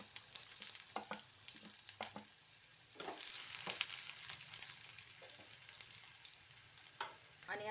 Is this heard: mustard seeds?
yes